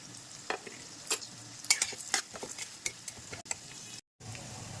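Whole spices, including green and black cardamom, cloves, cinnamon, poppy seeds, melon seeds, almonds and black peppercorns, dry-roast in a pan, with a soft close sizzle broken by irregular scraping stirs of the spoon.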